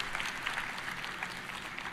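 Steady, fairly faint audience applause at the Roblox RDC developer conference, a dense even wash of many clapping hands heard from a distance with no voices over it.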